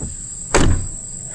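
A single sharp mechanical thud of a pickup truck door shutting cuts through a steady high-pitched insect-like whine and a faint background hum.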